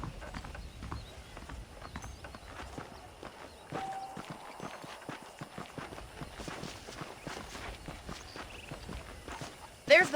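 Horse hooves clip-clop steadily at a walking pace while riding in the video game Red Dead Redemption, close and continuous, with a louder thump near the end and faint voices underneath.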